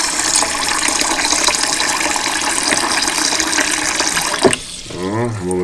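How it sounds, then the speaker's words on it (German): Filtered water from a reverse osmosis system pouring into a glass fermentation jar for vegetables, a loud steady gushing stream that cuts off abruptly near the end, followed by a short spoken phrase. "das Wasser nehmen wir dann, um das Glas zu befüllen."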